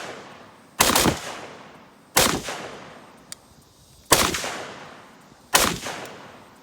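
Lewis Machine & Tool LM308MWS rifle fired with a Silencer Co. single port brake, four loud, sharp shots spaced about one and a half seconds apart, each with a short decaying tail, no talking.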